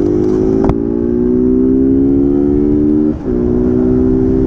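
A Honda CG Fan 160 motorcycle pulls hard in second gear, its engine note climbing steadily and loud close to the rider, with a brief dip around a gear change before it keeps revving upward.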